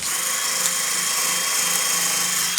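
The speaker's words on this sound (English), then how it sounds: "I've got my drill with a bit of wire wool on the side" A loud, continuous electric drill fitted with wire wool whirring with an abrasive scrubbing hiss as it removes rust from an old Ford Mondeo, close up and unbroken throughout.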